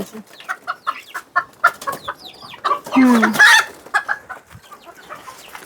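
Chickens clucking close by, a busy series of short clucks with a louder squawking burst in the middle.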